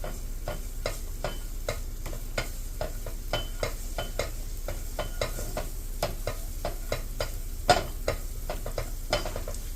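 Garlic and chili fry in a pan on a turned-down stove, a low steady sizzle under repeated sharp taps and scrapes of a utensil stirring, close by and with no talking.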